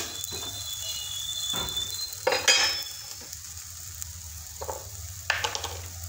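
Green chilies cooking in yogurt in a pan, a soft steady sizzle broken by a few louder bursts of spatter and light utensil scrapes, close by with no talking.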